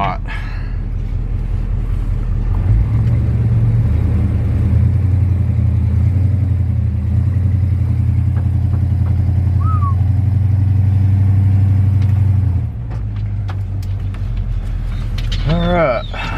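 A big 4x4 camper van grinds up a rough mountain road, its engine droning loud and steady for most of the stretch before easing off near the end.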